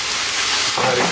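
Beef and vegetables sizzle loudly in a hot pan for cumin beef, a steady close hiss that swells slightly as the frying intensifies.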